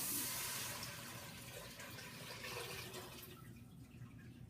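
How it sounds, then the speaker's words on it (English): Four cups of water pour steadily into a cooking pot, a continuous splashing rush that runs for several seconds and thins toward the end. "We are going to start by adding 4 cups of water"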